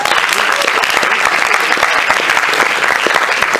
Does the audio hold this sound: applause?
yes